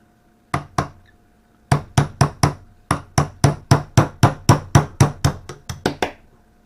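Repeated hammer strikes drive a pin out of an M43 8mm Spanish Mauser rifle at a kitchen table: two sharp knocks, a pause, then a steady run of about fifteen loud metallic taps, close and without talk.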